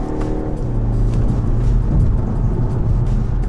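A BMW X1 xDrive23i M Sport rolls over bumps on a bend of a B-road, its steady low road rumble and engine drone loud and continuous, with thumps from the suspension soaking up the uneven surface.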